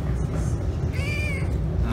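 A cat purring, heard as a steady low rumble close by, with a short meow rising over it partway through.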